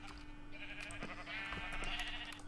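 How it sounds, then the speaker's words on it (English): Sheep bleating in a video game sheep farm, a couple of drawn-out wavering bleats close up over a steady low electronic hum. "So right here is the blue sheep."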